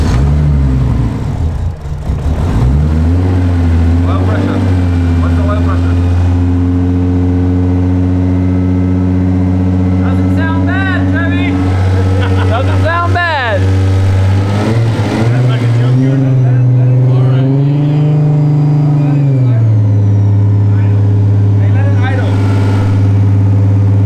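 A Toyota Supra's 2JZ engine runs rough and won't hold a proper idle, droning loud and close with a steady low hum, its pitch sagging early, then swelling in a rev before settling back, with faint voices underneath.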